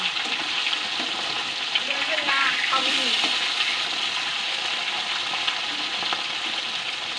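Hilsa fish pieces fry in hot oil with a dense, steady sizzle and crackle. Faint scrapes of stirring mix in, and the sound stays close and loud throughout.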